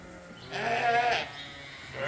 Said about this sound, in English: over here is the pen of the newly weaned Suffolk lambs